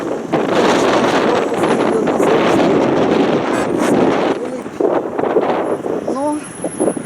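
Strong wind roars and buffets the microphone as a motorboat runs through waves toward a canyon, spray splashing over passengers, with a continuous loud rushing that fills the whole clip.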